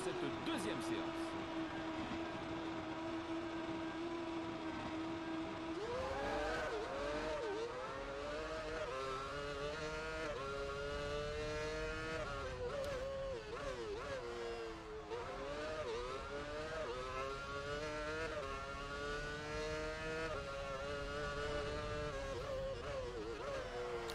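A Formula 1 car engine in F1 Championship Edition on PS3 at the Hungarian circuit, idling steadily then revving and shifting through gears in a continuous rising and falling whine, with someone talking over it.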